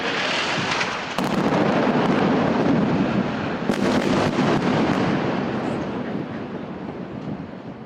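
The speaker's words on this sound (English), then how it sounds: "the building was levelled in a series of missile strikes" Missile strikes level a building in a war zone: a loud, sustained roar of blasts and rumbling debris fills the whole stretch, with sharp bursts near the second and fourth seconds and no talking.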